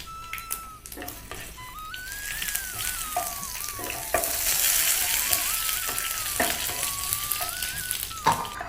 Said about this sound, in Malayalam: കടുക് പൊട്ടി വറ്റൽമുളകും കറിവേപ്പിലയും കൂടി ഇടാം